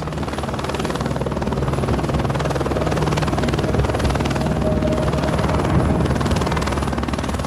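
A helicopter makes a hazardous landing in a field in Nepal, its rotor thudding and engine whining loudly and steadily, close by, with no voices over it.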